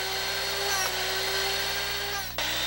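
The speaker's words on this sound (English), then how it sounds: "The drill bit is ground by the sharpening wheel each time you turn the chuck." A Drill Doctor Classic 500-750 bit sharpener grinding a drill bit against its sharpening wheel as the chuck turns, a steady close motor hum with a scraping grind that cuts off sharply near the end.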